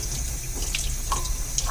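Tap water runs steadily into a cupped palm at a sink while a glazing brush is rinsed, a continuous near splash with a few brighter drips.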